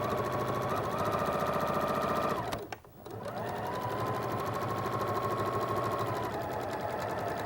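A sewing machine stitching quilt background fabric runs at a steady fast rhythm, pauses briefly, then starts again and keeps going, close and loud.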